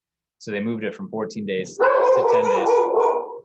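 A dog barks and yips in quick bursts close by, interrupting someone speaking indoors, then a louder stretch of barking follows.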